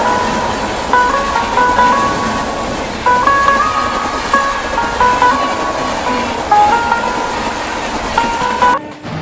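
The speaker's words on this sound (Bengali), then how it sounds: "আমার পাশ দিয়ে দেখো পেরিয়ে যাচ্ছে পুরী জয়নগর এক্সপ্রেস।" The Puri–Jaynagar Express rolls past at night through Chhatna station, a steady close rumble of wagons and rhythmic wheel clatter with sustained squealing tones, ending abruptly.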